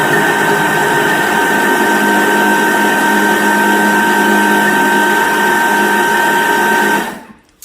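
Thermomix blending sugar and molasses into brown sugar, a loud steady high-speed motor whine that holds for about seven seconds, then winds down and stops.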